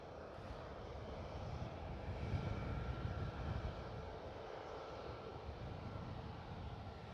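A Ryanair plane departing Edinburgh Airport produces a faint, distant broadband engine roar that swells briefly and then settles into a steady low rumble.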